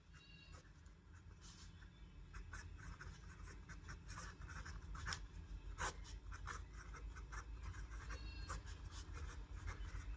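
Chalk scratching and tapping across a classroom board during a Class 10 maths lesson, a steady run of brisk strokes and taps over a low room hum, fairly close.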